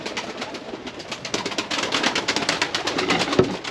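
Pigeons, including white breeding birds, coo softly around a coop on a wet, rainy day. Low calls sit faintly under a steady broadband hiss, with one slightly more distinct call near the end.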